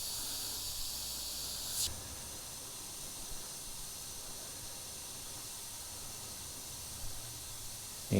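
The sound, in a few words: airbrush spraying paint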